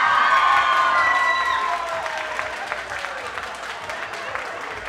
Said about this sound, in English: If you think group number two deserve to win, please stand up and applaud